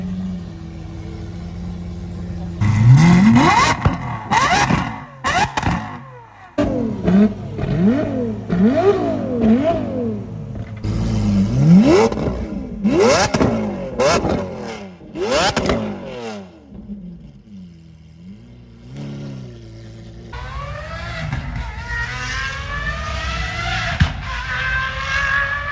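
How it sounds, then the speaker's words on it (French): A Lamborghini Aventador Gintani supercar revs hard and loud at a track event, heard from a distance, with repeated climbing and falling engine sweeps, sharp exhaust cracks, and other cars passing, including a Clio V6. "je me suis clairement mis exprès loin de la piste pour vous montrer à quel point c'est tellement bruyant une Aventador Gintani"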